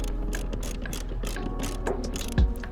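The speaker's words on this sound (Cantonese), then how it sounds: "就可以上翻實啲螺絲啦" Ratchet with an E10 Torx socket tightening security screws on a car seat mount in a Toyota 86, a rapid run of close, crisp clicking with a heavier clack near the end, no talking.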